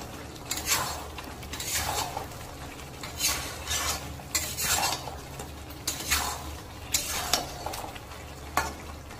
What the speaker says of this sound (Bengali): আর একটু ভালো করে নেড়ে নেব।